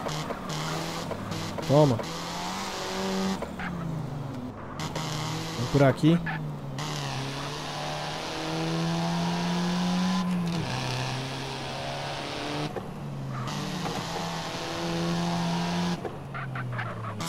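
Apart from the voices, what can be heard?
car driving in video game GTA San Andreas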